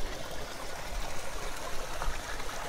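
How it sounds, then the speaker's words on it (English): Babbling brook running across a backyard near a deck, a steady, close rush of trickling and gurgling water that stays constant throughout with no voices. "babbling brook across the backyard, near the expansive deck"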